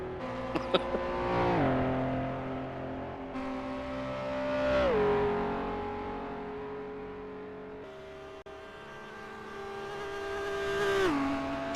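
Historic Maserati and Jaguar racing cars scream past at the Dundrod circuit during the two-hour Tourist Trophy, engines rising and falling through several loud, sustained passes.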